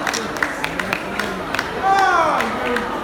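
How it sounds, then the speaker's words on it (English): Scattered claps and crowd murmur from an audience at a London sideshow act during a tattoo convention in Maidstone, loose and uneven rather than full applause, with voices and a whooping tone rising over it near the end. "And that deserves a little round of applause"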